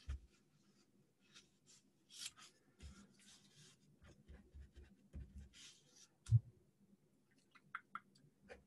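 Pen marks scratch and tap on a lecture slide in a quiet room, faint scattered strokes and small clicks in an irregular rhythm, with no voices.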